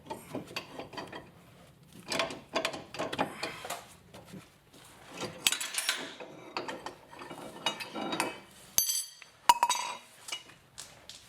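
An inner tie rod being threaded off by hand on a 2000-10 Ford Focus, heard as a close, quiet series of irregular metallic clicks and ratcheting rasps with small clinks, continuing for several seconds without talk.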